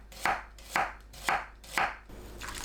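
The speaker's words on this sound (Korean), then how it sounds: "양파를 곱게 채 썰어주세요." An onion finely sliced with a knife on a board, four crisp evenly spaced cuts landing about half a second apart, close and clear, then a softer fifth stroke.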